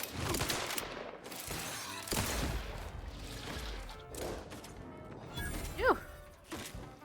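Gunfire rings out in The Outer Worlds 2 as a string of sharp, loud bursts and crashes scattered across several seconds, some near and some more distant, with a voice briefly speaking between them.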